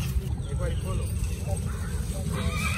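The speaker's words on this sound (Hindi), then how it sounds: "घोड़े खड़े हैं अटक वालों के" Horses standing at a Neza Bazi tent-pegging event in F9 Park, Islamabad, neigh and whinny in wavering calls close by, under steady crowd noise and people talking.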